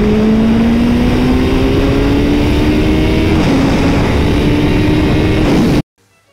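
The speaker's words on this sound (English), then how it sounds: "this next pull for the Turbo Hayabusa is 90 mile per hour start, third gear wide open, all the way into fourth gear" A Turbo Hayabusa motorcycle screams wide open from about 90 mph, pulling hard through third gear and shifting into fourth, a loud rising engine and intake roar that cuts off abruptly at the end.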